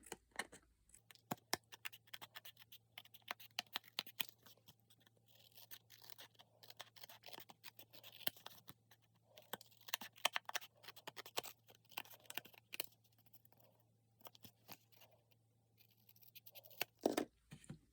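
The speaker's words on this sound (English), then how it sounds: "you'll just use your scissors to trim around" Soft, scratchy snipping of scissors trimming around red cardstock, quiet and close, in short irregular bursts over a steady low hum.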